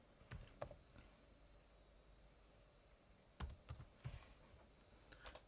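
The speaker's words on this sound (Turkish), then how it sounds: "Güvenlik kodumu yazıyorum." Fingers type a security code on a computer keyboard to log in with an e-signature. Short bursts of crisp key clicks come close by, separated by quiet pauses, with a final quick flurry at the end.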